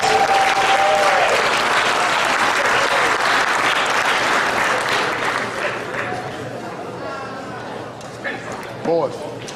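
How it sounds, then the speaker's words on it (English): Loud, dense applause from a crowd at a high school varsity boys basketball banquet, sustained for several seconds before thinning out, with voices talking over it near the end. "Give it a big round of applause."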